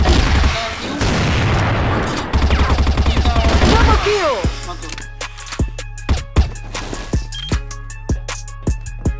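Gunfire in a video game shootout crackles in dense bursts of automatic fire, then gives way to separate, sharp shots spaced around a second apart, loud and close with voices talking.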